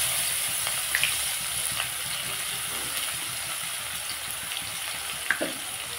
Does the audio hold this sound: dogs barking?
no